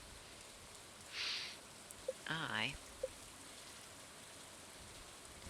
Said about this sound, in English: because it's raining in spring